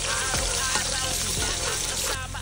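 Garlic frying in a pan as a rabbit adobo is cooked, with a steady loud sizzle across the whole stretch and a few faint scraping stirs, close by and without speech.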